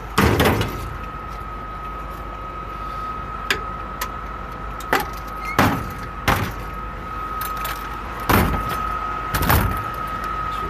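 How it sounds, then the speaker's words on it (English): A steady electronic tone hums beneath several sharp, loud thuds and clunks, including a Greyhound MCI bus door shutting, with quieter mechanical clicks in between. "Door closes."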